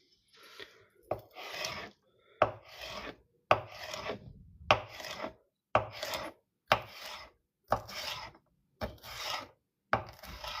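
A sharp kitchen knife cuts through onions in about nine steady, crisp strokes, each a close, rasping slice that ends in a chop, with brief silent gaps between them.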